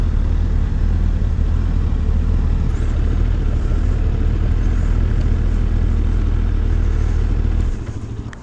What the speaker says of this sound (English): Get this thing up to speed on the highway, tuck in behind the windscreen, just go wherever you're trying to get to.